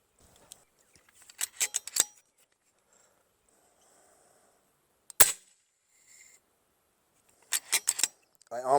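An FX Impact M3 air rifle is fired once, a single sharp crack near the middle between bursts of clicking and handling noise, with quiet stretches around it.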